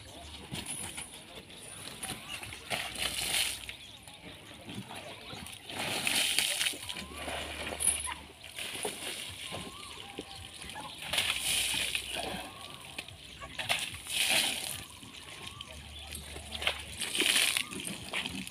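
Water splashes and sloshes in irregular bursts as a child is bathed, with someone talking over the splashing at close range.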